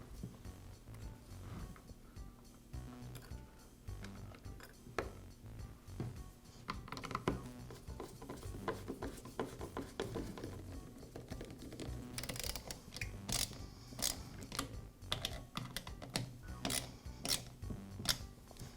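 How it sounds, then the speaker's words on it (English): Small nuts and a screw are tightened by hand to secure the air filter base on a Poulan chainsaw during repair, giving soft close ticking, clicking and metallic scraping that grows busier toward the end, with no speech. "And now I can secure the base with the nuts and the screw."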